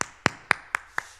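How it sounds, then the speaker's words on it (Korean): A church congregation claps in praise, sounding five crisp, evenly spaced claps in a quick steady rhythm, fairly quiet with short echoing tails. "우리 하나님께 영광의 박수 올려드리겠습니다"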